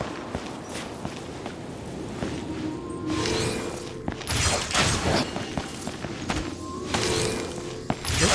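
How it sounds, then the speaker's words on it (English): Venti's attacks in Genshin Impact, a run of sharp snapping bow-shot impacts and bursts of rushing wind and shattering noise, with scattered footstep-like thumps in between, close and fairly busy. "So there's Venti's attack."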